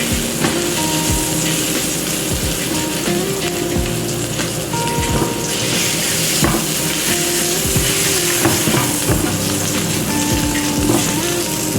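Garlic frying in hot oil for chicken shawarma, a loud dense sizzle with rain-like spattering and occasional stirring knocks, no talk over it.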